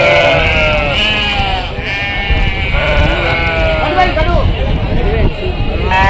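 Sheep bleat repeatedly at a busy rural livestock market in Rajarampalli, loud overlapping cries close by over a constant babble of crowd voices and talk.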